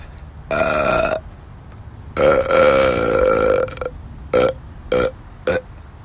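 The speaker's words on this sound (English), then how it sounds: "that was a really good burp" A person lets out a long, loud burp, then a second drawn-out one, followed by three short belches in quick succession, all close and alone without talk.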